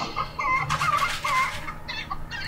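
Chickens cluck in a short burst of bird calls, fairly loud and close, with one rising call standing out among the clucks.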